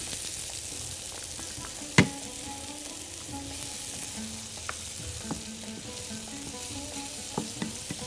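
Onion and garlic fry in country ghee with a steady close sizzle, a sharp utensil clack near the start and a few light scrapes and taps over the hiss.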